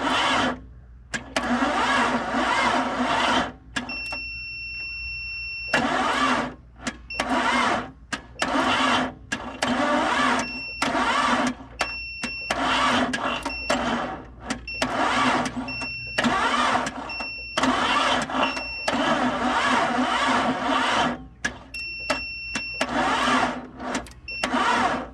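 A 1998 Jeep Cherokee XJ engine, pulled from a barn after sitting, cranking over slowly in repeated long bursts, a labored rhythmic churning that stops and restarts several times, with a chime beeping between attempts.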